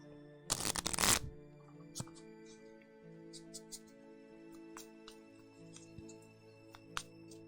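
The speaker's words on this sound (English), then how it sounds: "Go ahead and enjoy the ASMR shuffling noise." Game cards from a tabletop board game are riffled in one loud, close burst near the start, followed by soft taps and light card handling in a quiet room.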